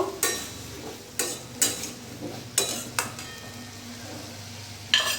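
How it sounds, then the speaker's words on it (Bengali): Ginger and green chili paste stirred into a prawn curry with taro in a pan, a spoon scraping and clanking against the metal in several sharp strokes over a low steady sizzle, close up with no voices. "এবার ভালো করে আমি নাড়াচাড়া করে নেব।"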